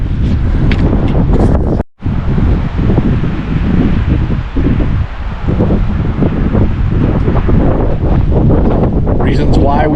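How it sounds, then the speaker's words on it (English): Strong wind on a mountain top roars and buffets the microphone almost continuously, a loud dense rumble with gusty swells, broken by a brief dropout near the start. "This wind is something else."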